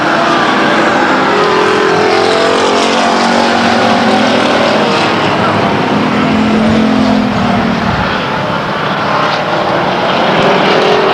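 Race cars lapping at Stockton 99 Speedway, a loud continuous roar of engines droning past with shifting pitch as the field goes by, steady and dense throughout, no voices audible.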